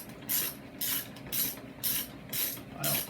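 A ratchet with a 3/4 inch socket on a 6-inch extension snugs wheel bolts on a Snapper RER mower, giving six quick rhythmic bursts of clicking, each about a third of a second, close and fairly quiet.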